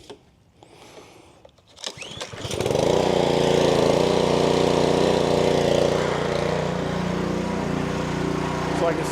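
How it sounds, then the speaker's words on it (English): A Honda GCV160 small engine fitted with a replacement carburetor fires up after a short pull-start rattle and settles into a loud, steady, close running drone that continues to the end. "Engine is on."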